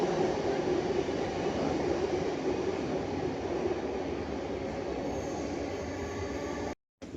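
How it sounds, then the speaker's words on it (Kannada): A metro train runs at a city metro station, giving a steady, loud rumble of wheels on rails with a high squeal throughout, then an abrupt cut near the end, with no voices. "ಇವಾಗ ಮೆಟ್ರೋ ಸ್ಟೇಷನಲ್ಲಿ ಬಂದಿದ್ದೀನಿ ಮೆಟ್ರೋ ಹೊತ್ಕೊಂಡು ಮನೆಗೆ ಹೋಗ್ಬೇಕು"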